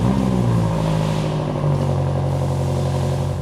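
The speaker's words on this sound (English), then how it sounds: "I'll make a cold start, we'll listen how it sounds stock" BMW M5 on its stock exhaust idles after a cold start inside a garage, a close, steady, loud engine drone with a slight dip in pitch early on.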